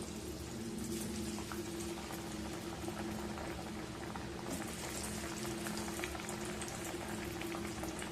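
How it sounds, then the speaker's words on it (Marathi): Colocasia leaf rolls fry in hot oil, a dense, steady sizzle and bubbling that stays close and loud throughout, with a faint hum underneath. "तर तेल तापलेलं आहे आता बघा हे एक एक वडी मी तेलात सोडून घेते"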